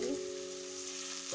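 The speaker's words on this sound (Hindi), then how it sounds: "इसको भी थोड़ा सा फ्राई कर दूंगी।" Carrots, peas and onion leaves frying in a pan, a steady close sizzle with a constant tonal hum underneath, running without pause and with no voices.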